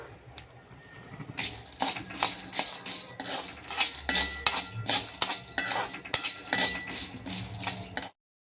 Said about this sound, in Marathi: आता इथे कढईमध्ये मी चक्री फूल घालून घेत आहे.